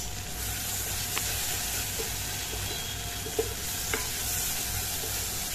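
Spice masala sautéing in a pan for Bengali ghugni, a steady sizzle running throughout with a few soft scrapes and taps of the spoon against the pan.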